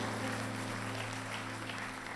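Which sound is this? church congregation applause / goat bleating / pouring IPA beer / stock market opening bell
church congregation applause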